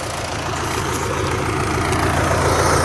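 A low, steady tractor engine idles nearby during haymaking, a continuous rumbling drone with no voices over it.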